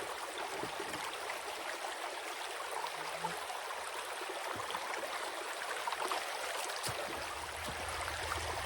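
Water rushes steadily over a gold sluice outdoors, a constant bright stream-like hiss and gurgle with no pause, fairly close.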